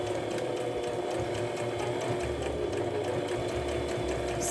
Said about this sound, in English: we're gonna stitch across to our seam allowance